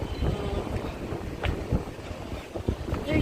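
Steady wind buffets the microphone outdoors in West Bay, Doha, producing a continuous low rumble with occasional stronger gusts.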